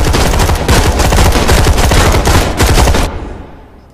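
Sustained rapid automatic gunfire in a video game rattles loud and dense for about three seconds, then cuts off and trails away into quiet.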